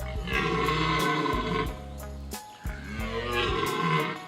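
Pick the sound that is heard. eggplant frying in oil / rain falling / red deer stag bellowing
red deer stag bellowing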